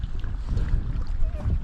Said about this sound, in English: there's a lot of wind pushing me around